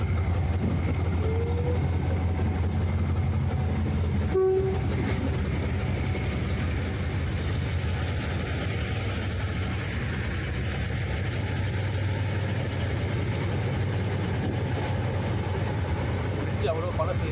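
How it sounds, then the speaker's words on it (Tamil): An old train creeps slowly across the River Kwai Bridge near Kanchanaburi, Thailand, a low steady rumble of engine and wheels with occasional faint squeals and clanks, with voices murmuring in the background throughout. "அந்தளவுக்கு பொறுமையாக வருது ட்ரெயின்."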